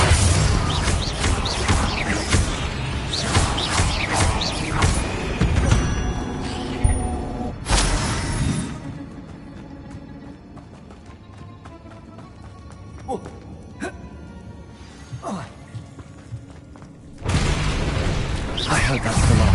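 Confringo blasting spells explode in Hogwarts Legacy during a spider fight, loud booming bursts at the start and again near the end, with quieter crackling game effects in between and a person talking.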